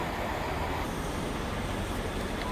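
A class 458 South Western Railway train built by Alstom at Reading station, giving a continuous loud, dense rumble and hiss without pause.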